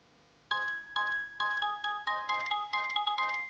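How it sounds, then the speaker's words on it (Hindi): An electronic phone ringtone plays a repeating melodic pattern of bright beeping notes in quick, even bursts, moderately loud and alone. "फोन आ रहा है"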